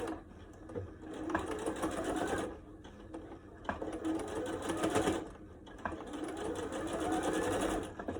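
A sewing machine stitches bias tape onto a fabric mask, running in three steady bursts of close, fast mechanical whirring separated by brief pauses.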